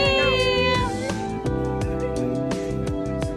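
A cat, an imported breed abandoned in the Middle East, meows close by; one long drawn-out meow is followed by several shorter calls, heard alone over a low background hum.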